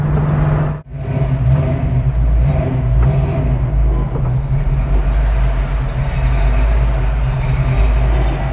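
A car fitted with a Holley carburetor revs and drives, its engine note loud and steady throughout apart from a brief dip near the start, with a continuous low rumble and rising whir.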